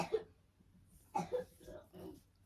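A few quiet, separate coughs from a young girl, spaced out over a couple of seconds in a fairly hushed room.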